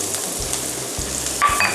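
Konjac noodles stir-fried with onion in a pan, giving a close, continuous sizzle with soft stirring scrapes and a brief sharper clink near the end, no voices.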